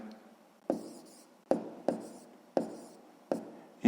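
Pen strokes of handwritten numbers on paper during a sixth-grade math subtraction exercise, five distinct scratchy bursts at irregular intervals, close and clear against near silence.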